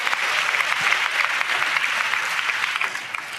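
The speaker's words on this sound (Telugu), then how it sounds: "వాడు చప్పట్లు కొడుతూ దేవునికి స్తోత్రాలు చెప్దాం" A church congregation clapping together in praise during a pastor's sermon, a sustained roomful of rapid overlapping claps, loud and steady throughout.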